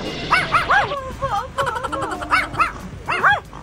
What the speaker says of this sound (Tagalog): naunang tumahol ang asong nasa pulang sasakyan